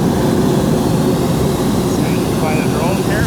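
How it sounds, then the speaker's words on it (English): A drone flying on a farm in Morocco, a constant close buzzing whir that fills the clip, with a high pitched tonal whine drifting in the last second. "There's the drone."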